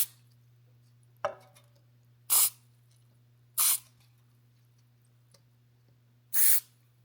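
DeoxIT contact cleaner is sprayed into a guitar potentiometer in three short, sharp hissing bursts, spaced about a second apart, close up against a quiet background with a low electrical hum and a faint click beforehand.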